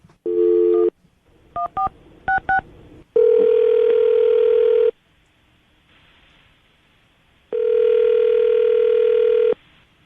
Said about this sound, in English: I'll dial her phone number right now, see if we can get her on the phone.